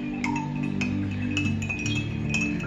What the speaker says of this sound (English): The next thing that goes in is ice cubes